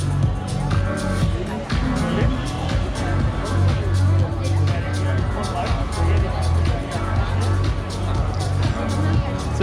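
A big crowd at an evening park event near a Macau night market, a continuous dense babble of many voices with scattered clatter, close to a person speaking.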